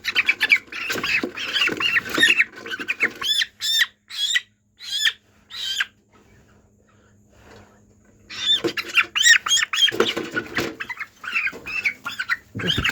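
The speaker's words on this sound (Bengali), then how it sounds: "এক হাতে মুরগি ধরতে আমার একটু অসুবিধা হইতেছে তাই মুরগিটা আরও বেশি ফালাফালি করতেছে" A 22-day-old chicken held in one hand squawks and flaps hard in loud bursts, then briefly goes quiet before the squawking and wing beats resume.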